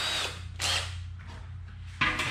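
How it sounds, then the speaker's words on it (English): A power drill with a quarter-inch bit whirs in short bursts, revving up and easing off a few times, close by with a steady mechanical hum underneath. "That's our 1/4-inch drill bit."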